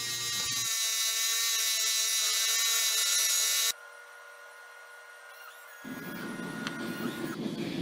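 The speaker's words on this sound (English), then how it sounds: "we move on to start grinding and cutting the actual bevel for the knife, or where the edge is going to be" A belt grinder cuts the bevel on a scrap-steel kiridashi knife, giving a continuous high, gritty whine close by that shifts in tone as the work is pressed and eased on the belt.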